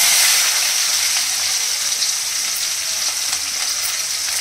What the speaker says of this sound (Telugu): ఉల్లిపాయ పచ్చిమిర్చి బాగా వేగనిద్దాం ఫ్రెండ్స్